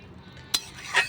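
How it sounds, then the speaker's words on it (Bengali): A pot lid is lifted off prawn and potato curry cooking on a clay stove, giving two short, close metallic clinks about half a second apart over a quiet background. "এবার ঢাকাটা উঠিয়ে দেখে নেব।"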